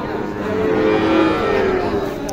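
A Sahiwal calf at a Bangladeshi cattle market gives one long, loud, close moo that rises and fades, with faint crowd murmur in the background.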